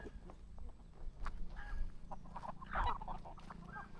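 Native chickens and other fowl call around a poultry farm, scattered clucks and honk-like cries at moderate distance over a low rumble of farm background.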